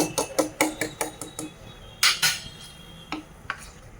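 Spoon scraping and clinking against a bowl while semolina batter is mixed with water, a quick run of sharp rhythmic taps followed by a few scattered knocks, close and clear with no talking.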